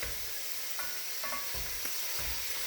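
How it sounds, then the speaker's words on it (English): Onions, garlic and celery sauté in olive oil and butter in a pan, giving a steady, close hiss of frying with a few soft stirring scrapes and no talk. "onions, garlic, and celery in the pan, in some olive oil and butter"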